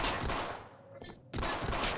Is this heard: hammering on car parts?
no